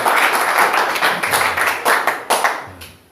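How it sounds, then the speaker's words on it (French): An audience at a French-language church gathering applauds for the Lord, a fairly small group clapping in uneven bursts with sharp, distinct hand strikes that swell and then taper off. "Applaudissons donc pour le Seigneur"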